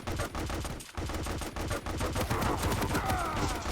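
Sustained machine gun fire rattles loudly in a video game duel match, with dense, rapid repeating shots that continue throughout, broken by a brief gap near the start.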